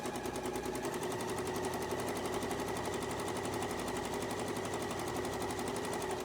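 Sewing machine stitching fabric strips at a steady fast pace, a close, even mechanical rattle that drones on without pause and with no voices.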